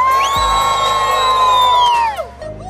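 A group of people, children among them, shout and whoop together in excitement after riding three-wheeled bicycles, one loud cheer of about two seconds that fades out quickly.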